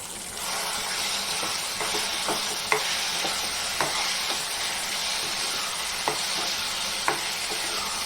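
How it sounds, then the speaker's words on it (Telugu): Prawns fry in oil with gongura in a pan, giving a steady close sizzle with occasional light taps of a spoon against the pan. "ఇదిగోండి రొయ్యలు కూడా కొంచెం మన నూనెలో వేగనియాలి"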